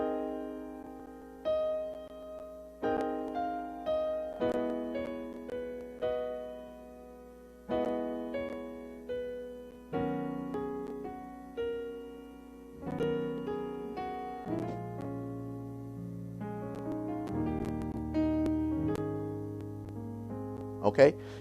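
Gospel piano polychords played to follow a melody line, sounding as a sequence of rich struck chords with ringing decays at a moderate pace, fairly quiet and without talk, a bright accent near the end.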